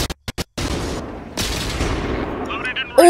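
A tank cannon firing in World of Tanks, a loud booming shot followed by a long rumbling decay and a second blast, with short sharp bursts at the start and a voice near the end.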